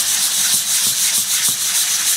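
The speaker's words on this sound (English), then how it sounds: "Sanding, sanding, sanding." Steady, close hand sanding of wood for a homemade clock: a continuous breathy rasp with a faint regular back-and-forth pulse, no voices.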